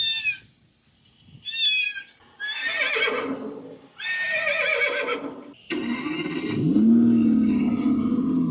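A Zeekr 7X SUV plays a horse neigh through its exterior speaker: a loud, close, synthetic whinny with several rising and falling bursts over about eight seconds, ending in a lower snorting tail.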